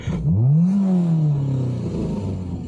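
A Peugeot 306 engine idling steadily just after a hot start, with part of the exhaust missing, a close, fairly loud rough hum with a brief rise in pitch before settling.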